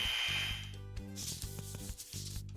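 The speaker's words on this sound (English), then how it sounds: "Sand the edges." A small piece of plastic shaped into a toy microphone has its edges sanded, heard as a close, rhythmic rubbing and scraping over a steady music background, with repeated short strokes.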